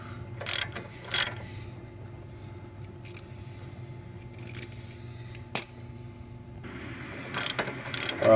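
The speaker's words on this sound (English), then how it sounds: "we're going to go ahead and start tightening down our" Ratchet wrench tightening 24 mm bolts, a few short bursts of clicking near the start and again toward the end, with a single sharp click midway and a steady low hum underneath.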